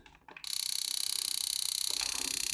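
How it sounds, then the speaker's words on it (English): A mechanical whirring buzz with a rapid, even ratcheting pulse runs continuously after a couple of soft clicks, a Fujifilm Instax Wide 400 instant camera's self-timer unwinding. "You can hear that timer winding back"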